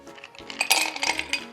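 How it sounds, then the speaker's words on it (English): Ice cubes clink and tumble into a double rocks glass in a series of bright, close knocks and rattles while a rum cocktail is being prepared. "we are going to start by filling our rocks glass with ice"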